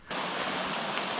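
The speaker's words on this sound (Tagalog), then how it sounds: "Hindi naman malakas yung agos ng tubig." Steady rushing of a gentle river current in Nueva Vizcaya, a dense broadband wash that starts abruptly and holds constant, close and fairly loud with no voices.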